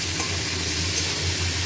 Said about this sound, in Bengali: মাংসটা চিকেনটা ভালো করে ধুয়ে ভেজে নিচ্ছি